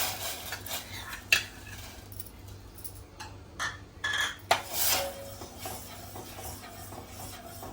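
Sago being added to water in a pot and stirred, soft scattered clinks and scrapes of a spoon against the pot, quiet with a few sharper knocks and no talk.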